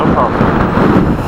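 Steady wind buffets the microphone with a loud, rumbling roar while a voice speaks over it.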